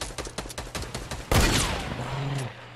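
Gunfire from a Fortnite match: rapid bursts of shots in quick succession, then a louder close blast with ringing debris and lingering game effects, no talk.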